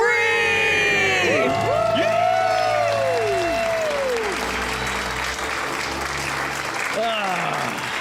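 A studio audience on a personal finance call-in show cheers and applauds loudly after a debt-free scream, with whoops and shouts layered over the sustained clapping, close and full.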